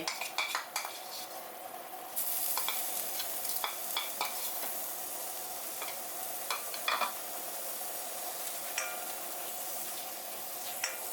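Thai curry paste stir-fries in coconut cream for an old-style central Thai kaeng lok, a steady close sizzle broken by repeated scraping and clinking stirs of a utensil against the pan, with no talking.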